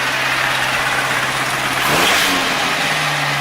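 A 720 car engine is revved with a blip of gas, rising from a rough, steady idle to a brief louder surge and then settling back, heard close and with no talk.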